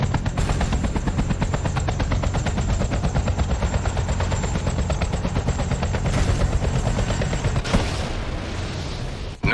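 Sustained rapid machine gun fire in the video game Battlefield 2: Modern Combat, a dense, loud stream of shots with helicopter-like rumble underneath and a few sharper bursts near the end.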